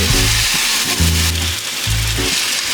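Marinated beef sizzles steadily in an oiled pan, a continuous close hiss with low pulsing tones running underneath throughout.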